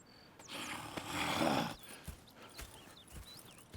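Horses in the video game Red Dead Redemption 2, with a swell of hoof and harness noise in the first seconds followed by a few soft, scattered thuds and snorts at moderate distance.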